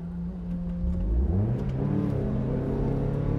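A lightly prepped Mazda Miata NB engine revs and accelerates, its rising drone climbing steadily in pitch over a constant rumble from inside the car, with no talk.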